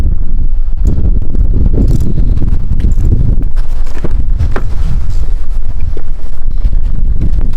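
Strong wind buffets the microphone continuously outdoors beside a 2019 Subaru WRX STI, a loud low rumbling roar with gusty fluctuations throughout.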